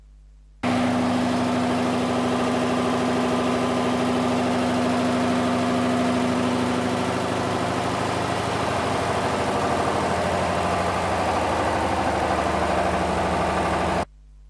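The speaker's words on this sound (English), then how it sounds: "allow the engine to run for 1 or 2 minutes so that the system gets stabilized" An IC engine runs steadily under load on a test rig during an air fuel ratio experiment, a constant close mechanical drone with a strong low hum that stays even from start to finish, no voices.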